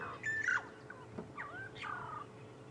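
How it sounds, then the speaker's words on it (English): Burchell's starling calling on an African safari drive at sunset: a few clear, fluting whistled notes and slurred call phrases, fairly near, with quiet pauses between them. "That sort of sound that you hear, that's them. This is called a Burchell's starling."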